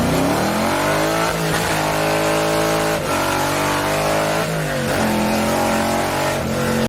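A 1970 Chevrolet Chevelle SS 454 LS6 with its big-block V8 roars loud and close, rising and falling through several steady revving pulls that rumble on without a break.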